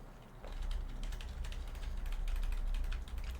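A computer keyboard key, the numpad 5, hammered repeatedly during a Path of Achra game: a fast, steady stream of light clicks, close and fairly quiet, with no one talking.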